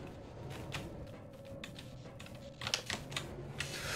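Computer keyboard typing, a run of quick, irregular clicky keystrokes, sparse at first and then denser bursts near the end, close and fairly quiet with no talking.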